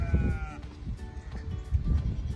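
Sheep bleat at a creep feeder on a farm, with a few close, wavering calls over a steady low rumble of livestock and movement.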